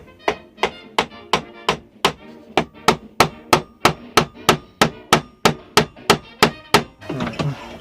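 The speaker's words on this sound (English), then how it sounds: "rubber hammer." A rubber hammer taps a wooden mortise and tenon joint together, about twenty sharp, evenly spaced knocks in a steady rhythm, loud and close, ending in a rougher shuffle of handling.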